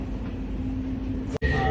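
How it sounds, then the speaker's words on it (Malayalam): Riding inside a Riyadh Metro blue line train, a steady low rumble and hum of the moving car with a brief dropout and a sharp shift in tone near the end, with no clear talking. "ബ്ലൂ കളർ ട്രെയിനിലാണ് നമ്മളിപ്പോൾ ഉള്ളത്."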